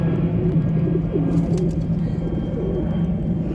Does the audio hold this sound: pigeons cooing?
yes